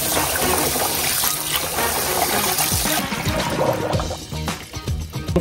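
Rice rinsed in a pot with water poured and swished around, a loud, close, continuous sloshing and gushing that thins into lighter splashes and dribbles toward the end.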